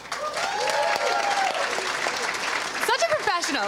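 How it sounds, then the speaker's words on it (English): Audience applauding for Zoe at an awards event, dense clapping with cheers and voices mixed in over its few seconds. "Can we get a round of applause for Zoe,"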